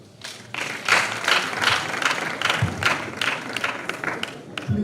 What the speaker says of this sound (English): Please, a round of applause for all the businesses